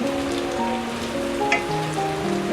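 Okra (bhindi) frying in a pan: steady close sizzle and crackle throughout, with a soft tonal hum running underneath, no talk.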